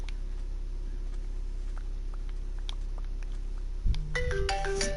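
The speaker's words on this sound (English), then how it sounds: "Oh god damn it, I'm getting a phone call" Phone ringtone of an incoming call that starts abruptly near the end, a bright repeating electronic melody over a low steady hum, preceded by faint scattered clicks.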